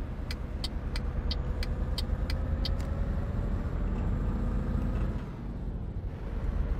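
New Scania truck in Euro Truck Simulator 2 droning at a steady low engine note around 1500 rpm, loud and continuous with a rhythmic ticking over it early on, then briefly dipping before resuming.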